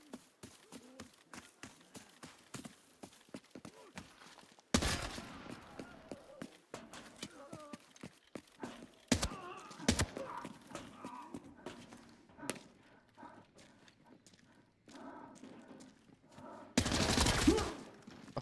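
Bursts of Mac 10 submachine gun fire in the shooter Arena Breakout Infinite, short rapid volleys spaced through the scene with other game noises and a voice talking over parts of it.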